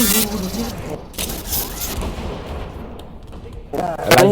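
Gunfire in the multiplayer video game Deceit, loud sharp shots in short bursts from close by, mixed with game sounds and the speech of players talking over it.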